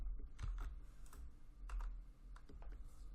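Keystrokes on a computer keyboard while someone enters web page code, a quick irregular run of clicks with a few louder taps, close by over a low steady room hum.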